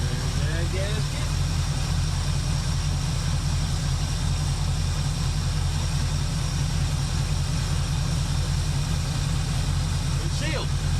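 A 1976 Chevy Malibu V8 with a Holley carburetor idles steadily, a low continuous rumble running the whole stretch with faint voices and small clinks in the background.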